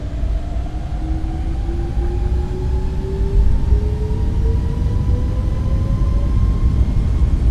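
Airliner jet engines spooling up to takeoff power in Microsoft Flight Simulator, on an iFly 737 MAX: a steady, loud broadband roar with two rising whining tones climbing gradually across the whole stretch, no voices.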